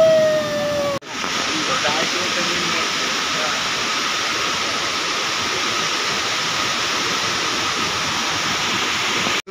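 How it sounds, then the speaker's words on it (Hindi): Sedam waterfall in Sarguja, Chhattisgarh, roars as a loud, steady broadband rush of falling water, continuous and unbroken after a brief cut near the start. "देखिए आपका झरना वाटरफॉल"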